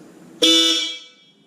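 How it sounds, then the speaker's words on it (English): Aftermarket Hella horns on a 2018 Subaru WRX give one loud, close blast of about a second, rich in bright tones, that fades out with nothing else around it. "So I'm going to go ahead and toot the horns."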